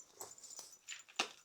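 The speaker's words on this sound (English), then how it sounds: "Look at that lovely doggy." A dog whimpers and whines in a few short, high, thin bursts nearby in a garage setting, faint and alone without talk.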